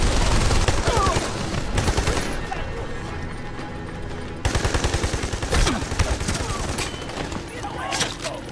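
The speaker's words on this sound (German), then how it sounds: "Einfach mal so sinnlos alles kaputt schießen" Rapid automatic gunfire in Army of Two: The Devil's Cartel rattles loudly in long bursts with short pauses, close and harsh, amid mechanical clatter, while players talk over it.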